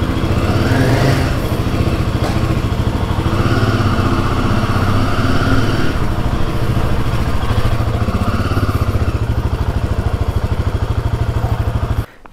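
A Royal Enfield Himalayan 450 motorcycle engine runs steadily and loudly at close range with an even, throbbing pulse for about twelve seconds, then cuts off abruptly.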